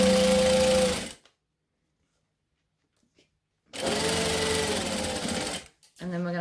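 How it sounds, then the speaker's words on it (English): A sewing machine chain-stitches fabric pieces one after another to save thread for a wallet, with a loud steady mechanical run, a pause of near silence, then another long stretch of stitching; a voice speaks briefly at the start and end. "then we're going to chain stitch so that we waste less thread and time"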